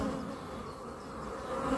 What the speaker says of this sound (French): elle est calme, j'ai aucune abeille qui essaye de me piquer